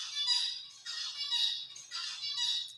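Recorded song of a male songbird singing alone, three repeated bursts of bright high chirps and squeaky warbles separated by brief pauses, clear and close over near silence.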